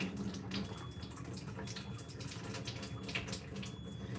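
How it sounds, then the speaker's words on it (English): Water runs steadily from a tap, a continuous splashing hiss lasting the whole stretch, fairly quiet with faint background clatter and no talking. "I just turn the water on from the tap,"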